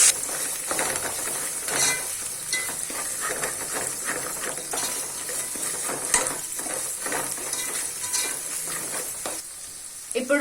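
Mint leaves fry in a pan with garlic paste while mushroom biryani is being made, giving a steady close sizzle broken by scraping and stirring clatter of a utensil.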